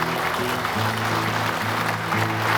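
An audience at a Hunt for Heroes show of support applauds a soldier as his name is announced, a steady wash of clapping with a sustained tonal hum running beneath it.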